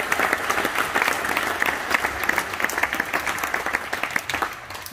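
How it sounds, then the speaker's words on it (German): Audience applause in a gym hall at a regional gymnastics championship, a steady round of many hands clapping at moderate distance that continues evenly for several seconds. "Das ist, denke ich, auch ein Applaus wert."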